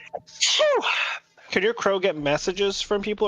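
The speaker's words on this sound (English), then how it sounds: "I gotta sneeze." A single loud human sneeze sounds up close after a short inhaled buildup, followed by people talking casually over a tabletop role-playing game.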